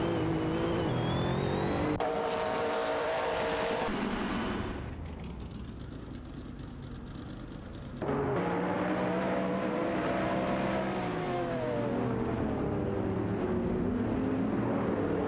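Race cars in an AI racing video game roar past with loud, continuous engine noise whose pitch rises and falls as they accelerate. There is a sudden dip to a quieter, muffled stretch midway before the full engine howl returns.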